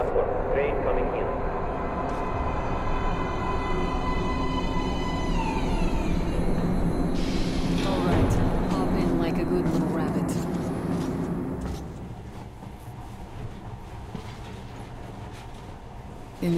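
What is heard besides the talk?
train arriving at a metro platform in video game Metro Last Light Redux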